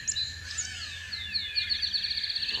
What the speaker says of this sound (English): Little catbird.